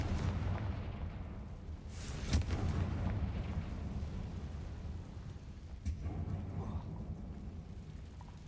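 The Confringo fire spell exploding in Hogwarts Legacy, a low rumbling blast with a couple of sharper bursts over a dull, sustained boom, moderately loud with no voice over it.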